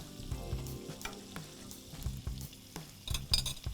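Finely chopped onion frying in garlic-flavoured oil for mixed fried rice sizzles and crackles, with recurring stirring scrapes and clinks of a utensil against the pan, near and fairly quiet.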